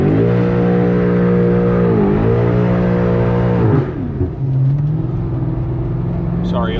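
A BMW F90 M5 revs hard in second gear on a wet back road, its engine note climbing loud and close through quick shifts before easing to a lower hum as someone starts talking.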